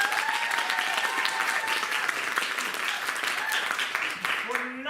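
An audience at a holiday watch party bursts into loud, sustained applause, many hands clapping densely for several seconds before it fades out and a brief voice begins at the very end.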